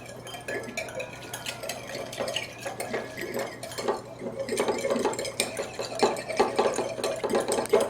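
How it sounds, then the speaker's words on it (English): A utensil stirs milk in a clean bowl to mix in yogurt culture, making close, irregular clinks, scrapes and sloshing taps that continue throughout. "I'm going to add a little bit of my milk. And just mix it around again."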